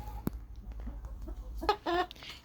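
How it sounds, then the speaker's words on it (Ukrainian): A rooster clucks a few times near the end on a September morning in a yard with young and adult hens, short harmonic calls rising over an outdoor background with a low rumble and scattered small noises. "Бачите, півень."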